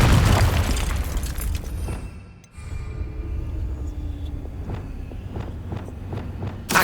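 A Confringo blasting spell bursts in the Hogwarts Legacy video game, a loud booming blast at the start that fades to a brief lull, followed by rumbling game effects and repeated sharp pops and impacts.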